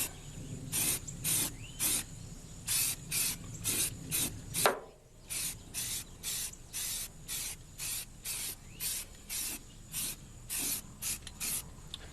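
Short, regular bursts of hissing spray as a 1966 Chrysler 300 is spray painted without a compressor, repeated about every half second with brief pauses between, close and fairly quiet.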